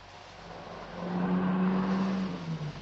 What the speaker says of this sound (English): That car, did you hear it?